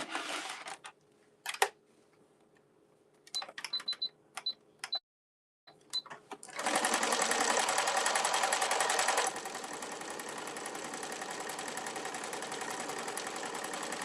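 A home sewing machine running in short stop-start bursts at first, then settling into a steady, continuous whirring stitch that carries on to the end.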